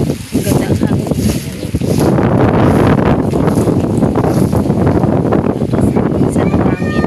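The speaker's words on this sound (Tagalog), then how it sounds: "Buti lang ang hangin. Ang ganda ang hangin." Outdoor wind gusts buffet the microphone on a hot day among falling leaves, a loud continuous roaring rush that swells and holds steady throughout, with a voice faintly audible beneath it.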